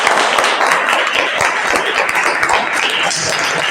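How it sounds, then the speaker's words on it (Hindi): A class of students claps together for several seconds, a dense, loud patter of many hands close by in a classroom with a faint voice mixed in. "तो इसके लिए एक बार ताली हो जाए।"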